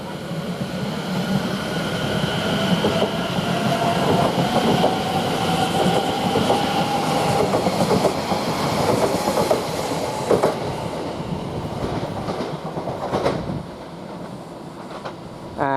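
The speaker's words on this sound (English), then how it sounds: "Now we've got the Braintree to London Liverpool Street to 12:38. It's now departing." A Braintree to London Liverpool Street train departs Shenfield station. Loud, steady rolling rumble with rhythmic clickety-clack of wheels over rail joints, fading slightly toward the end.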